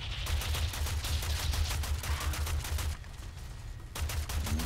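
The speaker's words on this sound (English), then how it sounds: "Just trying to shoot as many guys as I can down here." Rapid gunfire from the video game Warframe, a dense burst of repeated shots running nearly continuously with a brief dip, loud and without talk.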